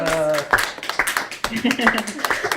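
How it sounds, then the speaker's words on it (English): A brief burst of audience applause at a campus meeting, a few seconds of scattered clapping mixed with voices talking nearby. "let's give them a round of applause"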